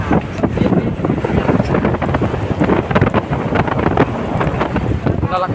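Strong amihan monsoon wind at sea, with waves around 10 to 11 feet high, roars steadily and loudly across the microphone in dense turbulent gusts, with churning water underneath.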